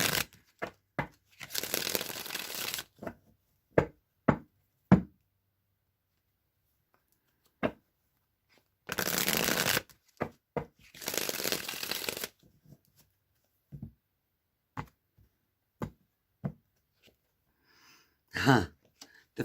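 Tarot card deck being shuffled by hand in bursts: several riffle shuffles lasting a second or two each, separated by sharp taps and clicks of cards being cut and placed, close and fairly clear in a quiet room.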